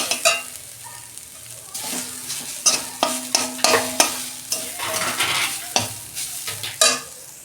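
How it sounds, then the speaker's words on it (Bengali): Grated coconut is stirred in a hot pan with two cardamom pods, a spoon scraping in quick repeated strokes over a soft, steady sizzle, close and clear with no talking. "নারকেলের ছাইয়ের মধ্যে আমি দুটো এলাচ ফাটতে দিয়ে দিচ্ছি।"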